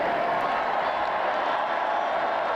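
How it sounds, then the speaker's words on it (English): A crowd at a presidential inauguration applauds and cheers in a dense, continuous wash of clapping and shouts that holds steady throughout. "if you're hearing the applause and the cheers"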